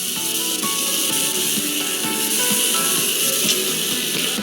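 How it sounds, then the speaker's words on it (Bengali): Masala paste sizzling in hot oil in a pan for a Bengali prawn-fritter curry, a steady bright hiss with small crackles throughout, close and even, no talking. "মশলাটা একটু ভালো করে কষতে হবে।"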